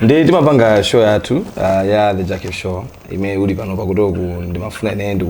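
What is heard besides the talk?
No distinct noise like a dog, phone or traffic.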